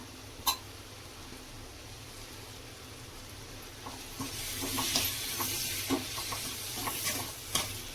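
Chopped onions and vegetables sizzling in hot oil for vegetable noodles, a steady soft frying hiss with intermittent scraping and clinking of a spatula stirring the pan, louder toward the end.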